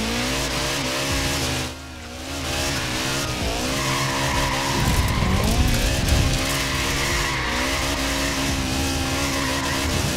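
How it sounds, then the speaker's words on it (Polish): Continuous engine roar with screeching tire squeal from a car drifting in Forza Horizon 4, loud and sustained throughout, with a brief dip near the start and a surge of skidding midway. "Mi się zajebiście tu driftuje"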